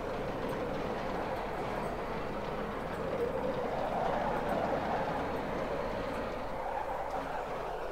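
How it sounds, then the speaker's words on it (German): A lift in Batman: Arkham Knight travels with a continuous low mechanical rumble and rattle, holding a fairly even level from start to finish with no speech. "Noch weiter fährt der Fahrstuhl nicht."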